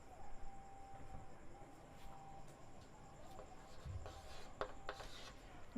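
Pen or chalk writing out a Class 10 NCERT maths trigonometry solution, heard as soft, faint scratchy strokes against a low steady room hiss, with a few brighter scraping bursts near the end.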